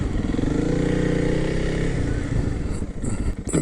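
A Honda CRF300L motorcycle engine runs with a loud, close, steady rumble that roughens toward the end, with some faint clatter.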